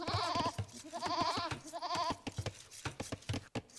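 Sheep in the Age of Empires video game give three evenly spaced bleats close up, followed by a scatter of clicks and short in-game effects, with no one talking.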